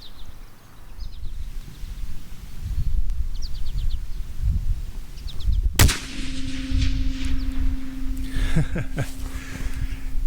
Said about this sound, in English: I could hear the target ring from here, so I know that was a hit